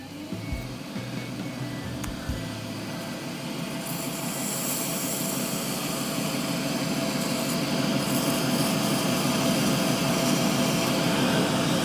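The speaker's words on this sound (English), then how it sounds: "So I'm just taking that sharp edge off the bottom with a sandpaper." Sandpaper rounding off the sharp bottom edge of a handmade burl wood and resin shaving brush handle, a steady close abrasive rasping that builds slightly in loudness and continues without pause, no talking.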